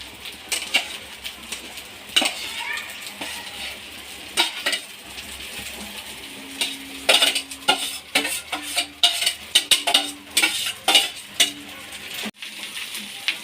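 Egg rice is stirred in a frying pan at home, a spatula scraping and clinking against the pan in irregular bursts over a soft, steady sizzle, close and fairly loud.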